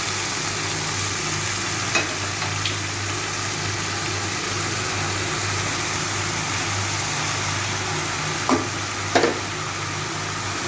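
Water lily stems drop into a pan of fried chili and black cumin, giving a steady, fairly loud sizzle with a few brief stirring clatters.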